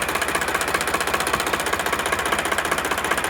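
A Sonalika RX 745 tractor engine runs steadily at idle, a loud, close diesel chug with a fast, even knocking rhythm throughout and no voices.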